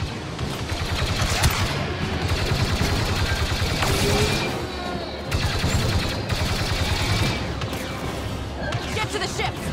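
Intense blaster and gunfire in a Star Wars Battlefront II campaign battle on Jakku, with rapid bursts, booms and explosions layered densely and continuously, punctuated by loud impacts.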